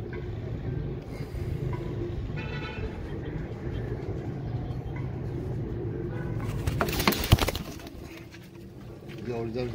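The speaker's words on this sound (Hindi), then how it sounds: "ये देख लो दोस्तों ये हीरा लाल कबूतर है" Heera Laal pigeon cooing in a loft, low soft coos repeating under steady background noise and someone talking, with a brief louder clatter near the end.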